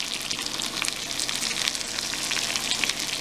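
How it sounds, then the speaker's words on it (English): Keto quesadilla tortillas filled with cheese and leafy greens fry in a pan, producing a dense, even sizzle with fine crackling bursts, close and steady for a few seconds with no talking. "So I'm going to let those fry"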